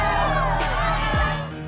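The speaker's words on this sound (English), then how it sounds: "The crowd is going nuts." Packed arena crowd at the Delta Center in Salt Lake City during an NBA Finals Game 6 against the Chicago Bulls, loud continuous cheering with whoops and whistles rising above the roar.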